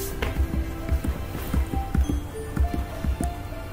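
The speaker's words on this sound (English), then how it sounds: "Wash the cups first." Cups being washed under running water in a home kitchen, with soft squishing, dripping and gentle knocks as each cup is handled. The taps are close and fairly quiet, and a steady low water rush runs under them.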